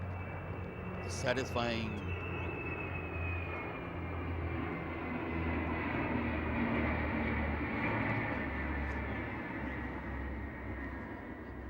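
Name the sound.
IL-78 aircraft flying over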